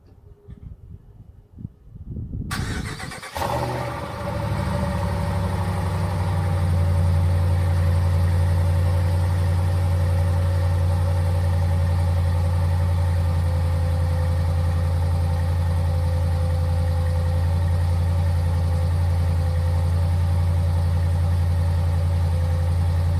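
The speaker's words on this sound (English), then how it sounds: "All right, so we're just going to do a stock cold start." Ram 1500 pickup on its stock exhaust cold-starting after a quiet moment: a sudden crank and catch, then a steady deep idle that settles and holds loud and close for the rest of the clip, with no talking.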